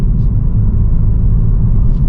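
A 2024 Ford Focus ST Estate manual engine drones loud and low, a steady heavy rumble under full throttle from about 30 mph, close up inside the car.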